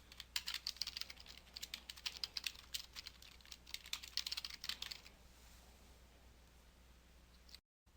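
Rapid keystrokes on a computer keyboard clatter up close in quick, uneven bursts for about five seconds, then fade to a quiet hum of room noise.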